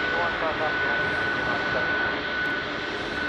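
Jet aircraft engines idle at Chicago O'Hare airport, a loud, steady roar with a sustained high whine holding constant and close throughout.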